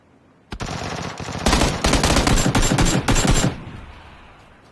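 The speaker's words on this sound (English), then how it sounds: "We're getting shot at, though." Automatic gunfire in the battle-royale shooter PUBG: a single sharp crack, then a loud, rapid burst of close shots lasting about two seconds, fading into a trailing echo.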